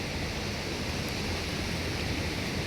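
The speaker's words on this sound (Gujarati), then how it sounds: "પાણી તાણ મારવા માંડ્યું છે" Strong current of a river in sudden flood, a dense, even roar of rushing water, close and unbroken, with no voices.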